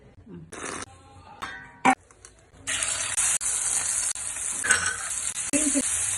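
Ingredients stirred and frying in a pan while cooking a chicken roll filling with capsicum and sauces, a steady sizzle broken by scraping stirs and brief clatters, close and fairly loud.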